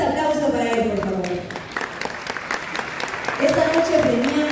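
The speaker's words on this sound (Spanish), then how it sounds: "Un fuerte aplauso para él, por favor." An audience at an award ceremony in Cuenca, Ecuador, applauds steadily and fairly loudly while a voice speaks over the clapping, which swells again near the end.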